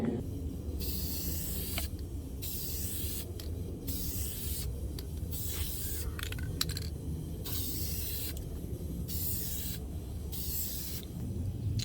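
Repeated bursts of Dupli-Color vinyl and fabric spray paint hissing from an aerosol can, each lasting a second or so, separated by short pauses, close and steady.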